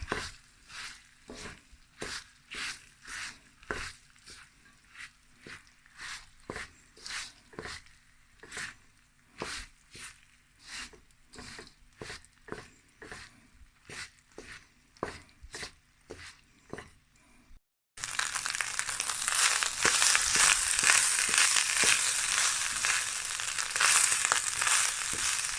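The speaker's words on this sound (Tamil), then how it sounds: "சோத்தை இதுக்குள்ளே போட்டு பிரட்டுவோம்." A spoon scrapes and turns cooked rice in a pan for lemon rice, giving steady rhythmic strokes about once a second. A continuous sizzling hiss follows near the end.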